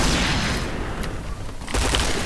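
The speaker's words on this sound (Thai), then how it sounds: "ควางระเบิดไปแล้ว" Grenade blast in the PointBlank shooter game, a loud dense boom and rumble that fills the opening, then fades into gunfire-like crackle and a second burst near the end.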